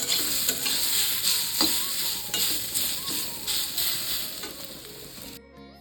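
Oil sizzles steadily as food fries in a pan on a home stove, with irregular scraping and clinking of a spatula stirring through it, close and fairly loud, cutting off abruptly near the end.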